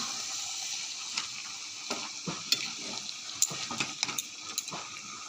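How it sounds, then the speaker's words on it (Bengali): Cabbage being stirred in a frying pan for a Bengali cabbage curry cooked with katla fish oil and head, giving a steady oily sizzle with scattered scraping clicks of the spoon throughout. "বাঁধাকপি দিয়ে দিলাম,"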